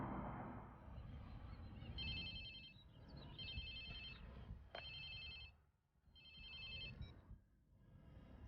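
Phone in the video game Watch Dogs 2 rings in three repeated electronic trills over a steady low rumble of game background noise, with no talk.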